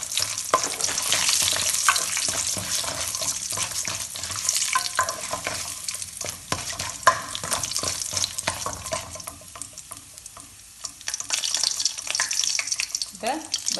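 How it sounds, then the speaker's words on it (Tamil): Peanuts frying in hot oil for lemon rice, crackling with a dense, close sizzle and steady stirring that briefly quiets near the end before surging back. "கச்சான போடுறேன்."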